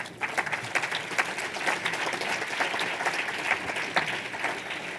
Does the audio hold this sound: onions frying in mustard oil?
no